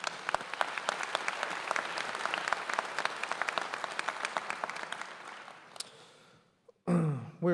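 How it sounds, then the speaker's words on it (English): Audience at a spring commencement ceremony applauding an award recipient, dense sustained clapping that tapers off, followed by a short pause and a voice at the end. "Please give her a round of applause and congratulate her when you see her."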